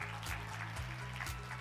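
Applause from an award ceremony audience as excellence-award winners are honoured at a conference on the low-birth-rate era: steady, fairly faint clapping that holds across the moment, with a low sustained hum beneath.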